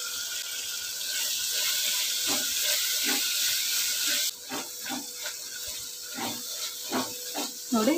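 Ginger garlic paste, chili powder and grated coconut frying over a medium flame for egg cabbage rice, a steady broad hiss with scattered soft scraping taps that drop lower and clearer midway.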